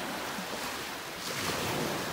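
Surf washing in at the water's edge on a Naples, Florida beach, a steady broadband wash swelling slightly louder toward the end, close and continuous with some wind, no voices.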